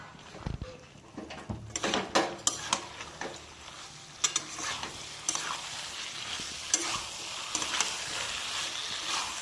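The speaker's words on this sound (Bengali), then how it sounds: "আমি এবার আলু ফুলকপি ভাজাটা এর মধ্যে দিয়ে দেবো। দিয়ে ভালো করে কষিয়ে" Fried potato and cauliflower being stir-fried in a pan, with a continuous sizzle under frequent sharp scrapes and clatters of a spatula against the pan, close up, with no talking.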